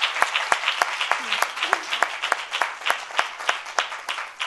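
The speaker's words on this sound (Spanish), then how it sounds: "Así que os pido un aplauso." An audience at a conference event applauds with distinct sharp claps over a softer wash of clapping, fairly close and moderately loud, with faint voices underneath.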